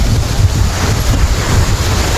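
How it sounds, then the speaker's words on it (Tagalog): Strong sea waves crashing on a beach, a loud, continuous roar of surf with heavy wind buffeting the microphone and no voices. "Yan, napakalakas ang alon."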